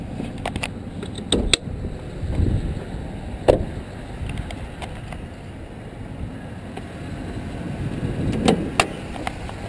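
A 2005 GMC Sierra Extended Cab with a 6-liter V8 idling smoothly and quietly, a low steady hum with a few faint clicks and knocks over it and no talk.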